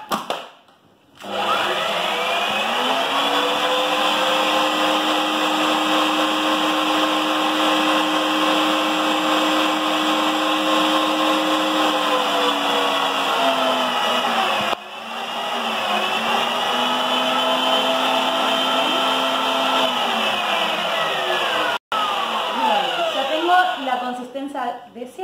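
Electric mixer whirring steadily through flan cake batter, a loud close motor hum that dips in pitch as the load changes, briefly cutting out twice, with no speech over it.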